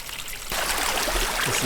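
Snowmelt water runs beneath the snowpack on a steep Appalachian Trail section in Maine at about 3,200 feet. A quiet moment gives way abruptly to a steady, close trickling and rushing of cold water that continues to the end.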